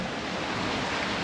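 Ocean waves wash steadily around a 30ft sailboat sailing alone at sea between Bora Bora and American Samoa, a dense continuous rush of surf mixed with wind noise, with no voices.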